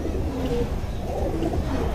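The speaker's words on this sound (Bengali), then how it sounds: "আমার সবচেয়ে পরিশ্রমী একটা কবুতর বলতে পারেন" A prized homing pigeon in a home loft coos softly, low throaty murmurs repeating under a steady room hum, faint and close.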